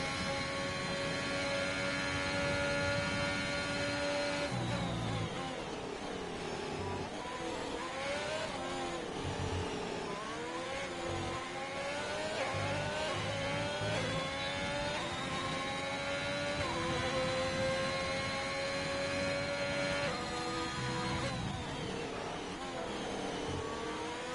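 A race car's engine drones steadily with rising and falling gear-change pitch as it heads out onto the track in a racing video game at a Mexico sprint round, continuous and moderately loud.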